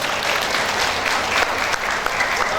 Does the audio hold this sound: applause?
yes